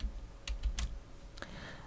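A few computer keyboard shortcut keys are pressed close by, giving quiet clicks in a small irregular cluster followed by one more tap, with a soft room hum underneath.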